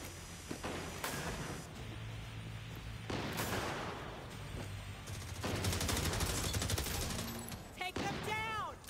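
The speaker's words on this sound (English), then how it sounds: "Looks like he's gonna shoot him out there." Bursts of gunfire in the mobile tactical shooter The Division Resurgence, repeated clusters of shots of moderate loudness over game ambience and music, with a voice speaking intermittently between volleys.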